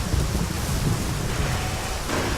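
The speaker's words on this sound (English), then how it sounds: "it's cool how they have the how they have just the thunder in the background and no music yet" Thunder ambience in the Armored Core 3 video game: a continuous low rumble of a thunderstorm with rain hiss filling the background, steady and fairly loud, with no music and no talking.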